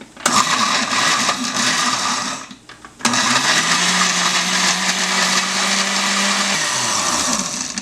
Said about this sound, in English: We're gonna blend the other ingredients of garlic, a piece of onion, a tomato cut in pieces, and salt to taste.